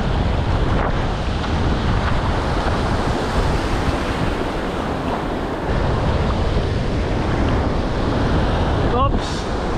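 Stormy sea surf rolls and crashes against the shore under gusting wind. The roar is loud, dense and unbroken, buffeting the microphone the whole time.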